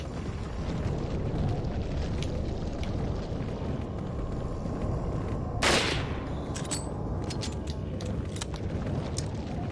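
Gunfire in Resident Evil 4, a single sharp loud shot standing out midway over a dense, rumbling game ambience, with a few fainter clicks and cracks afterward.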